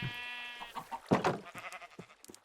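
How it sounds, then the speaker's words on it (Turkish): A Minecraft sheep gives a drawn-out, nasal bleat up close, followed by clicks and rustling game noises. "Burada da koyunlar var."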